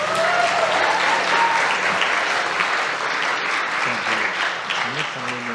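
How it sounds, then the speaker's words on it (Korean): A church congregation at a Sunday service applauds warmly and continuously to encourage someone stepping up, a full steady clapping that fills the room while a voice murmurs faintly beneath. "박수로 격려해 주세요."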